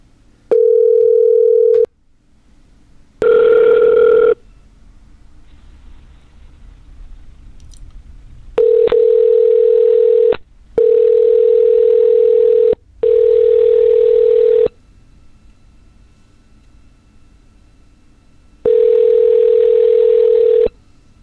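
Outgoing phone call to a scammer's support line: a loud, steady ringback tone sounds in about six repeated bursts of roughly two seconds each, separated by short gaps, with no talking.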